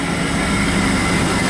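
On board a moving train, a steady low rumble and rolling hiss fill the space evenly and close around the listener, with no voices.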